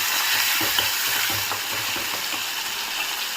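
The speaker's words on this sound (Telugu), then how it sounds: "ఇప్పుడు ఇందులోకి కట్ చేసి పెట్టుకున్న టమాటో వేసుకుందాము. ఒకసారి మిక్స్ చేద్దాము." Chopped tomatoes sizzle and fry in a pan with lentils while being stirred, a steady close hiss with soft repeated scraping strokes throughout.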